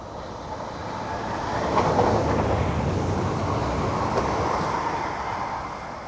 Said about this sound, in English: But let me show you the train.